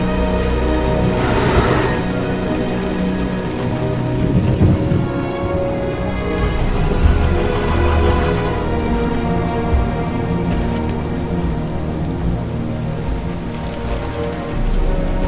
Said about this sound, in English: Rain has arrived. Even in the desert, it pours down from the heavens.